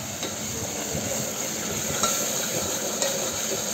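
Masala with coriander, coconut and garlic fries in oil for dhavara mutton, a continuous close sizzle with soft stirring scrapes and a couple of light clicks.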